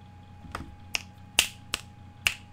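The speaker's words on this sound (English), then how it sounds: "Winder says, was that a finger snap?" Five sharp finger snaps spaced roughly half a second apart, crisp and close, heard alone over a faint steady electrical hum.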